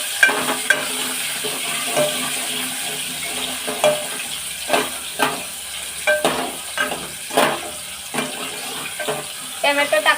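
Tomatoes drop into a hot chili tadka for Marathi-style dal, bringing sizzling and frying with stirring clatters and scrapes of the pan throughout, moderately close and without talk.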